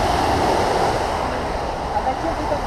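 Steady rush of waves washing onto the shore of Lake Baikal at sunset, with wind noise blowing across the microphone throughout.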